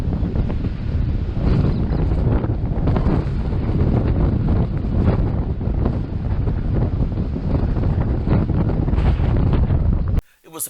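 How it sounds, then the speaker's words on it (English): Strong wind buffets the microphone outdoors in a blustery, gale-prone season around a curtain antenna array with tall masts, a loud continuous rumbling roar that surges and eases before cutting off abruptly near the end. "It was a particularly windy season."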